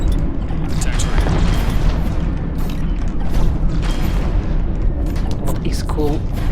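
A cruiser's spinal cannon in Infinity: Battlescape fires amid loud, rumbling space combat, with deep booms and mechanical churning throughout. Speech runs over the constant heavy din.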